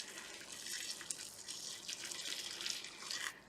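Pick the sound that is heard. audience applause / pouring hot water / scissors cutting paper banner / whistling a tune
pouring hot water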